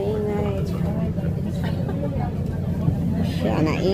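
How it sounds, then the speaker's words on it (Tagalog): Steady low engine rumble and road noise fill the cabin of a moving shuttle bus in Singapore, with people talking and babbling over it throughout. "Nandito kami sa loob ng bus."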